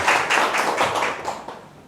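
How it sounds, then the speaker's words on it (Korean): A lecture audience at a leaders' club opening-ceremony talk claps in a short, thin burst of hand claps. The sound is fairly close and rhythmic, then tapers away over about two seconds. "청중들 숫자에 비해서 박수 소리가 기대에 못 미친 바"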